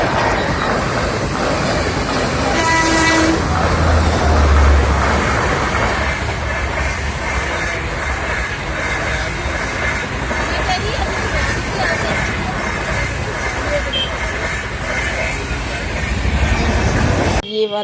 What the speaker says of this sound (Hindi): ये ट्रेन निकल रही थी, जो कि बहुत ही अच्छा वाला व्यू था यहाँ का